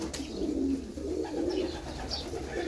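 Domestic pigeons coo steadily from close by, a low rolling murmur repeating throughout with a few faint higher chirps and no talking.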